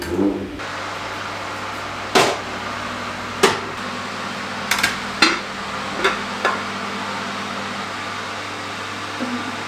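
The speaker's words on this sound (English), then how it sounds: "pop it in there, pop the lid on, bake." A lid set onto a hot baking pot holding a sourdough loaf, clattering in several sharp knocks against a steady kitchen fan or oven hum, no talk.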